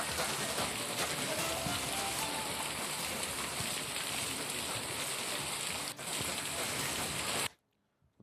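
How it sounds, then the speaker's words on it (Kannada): Heavy, unbroken monsoon rain pours down in Chikkamagaluru district in Karnataka's Malnad region, a dense, steady hiss that fills the scene at full strength before cutting off abruptly near the end. "ಬಿಟ್ಟು ಬಿಡದೆ ಮಳೆ ಸುರಿತಾ ಇರೋದು ಯಾವ ರೀತಿ ಇದೆ ಅಂತ ಹೇಳಿ."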